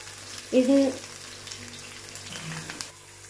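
A topping for Singaporean rice fries in a pan with a low, steady sizzle; a short tonal whine sounds near the start above the frying.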